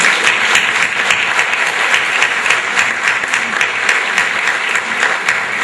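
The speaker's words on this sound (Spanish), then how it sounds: "¿Eso no merece un aplauso?" An audience applauds at a disability foundation event in Malargüe, Argentina, with loud, sustained clapping from many hands, steady throughout and without speech over it.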